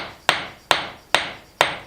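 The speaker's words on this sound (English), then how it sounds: "You know what? I can find my hammer." A hammer banging a piece into place, four sharp evenly spaced strikes close up, each ringing briefly before fading, with no talking.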